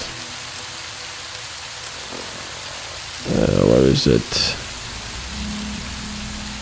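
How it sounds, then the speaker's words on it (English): Steady rain hiss from the Fallout: New Vegas game world runs throughout as a continuous broadband wash, with someone briefly speaking over it partway through. "That's a bit annoying, this rain, to be completely honest."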